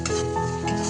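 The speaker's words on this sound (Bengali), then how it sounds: "দিয়ে ভালো করে আবার একটু কষিয়ে নিচ্ছি" Spices such as chilli powder, turmeric and Kashmiri chilli being stirred and sautéed in a frying pan, a close sizzle with a spoon scraping and clinking against the metal.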